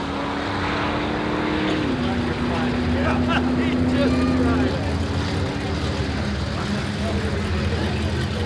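A 1940 Ford roadster at an antique drag race at Carlsbad Raceway, 1990, gives a loud, steady engine roar with a sustained droning tone, and an announcer's voice carries over it.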